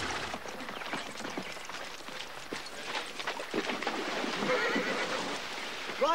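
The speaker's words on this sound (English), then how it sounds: "Horses, sir." Horses neighing and whinnying amid outdoor ambience with faint hoof clops, a drawn-out whinny rising near the end over steady background noise.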